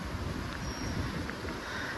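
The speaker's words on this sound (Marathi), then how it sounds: "एक नंबर वारा सुटलाय." Strong wind sweeps through a car park at the foot of a waterfall in Bhandardara, buffeting the microphone in a steady, dense roar that stays level throughout.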